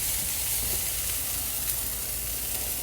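Thick pork chops and steak sizzle on a grill just after being flipped, giving a steady, close, even hiss with no pauses.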